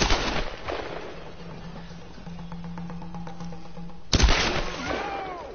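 Gunfire in the video game Tomb Raider: a sharp burst of shots at the start, a quieter stretch of humming and clicks, then a loud close gunshot near the end, with no talk.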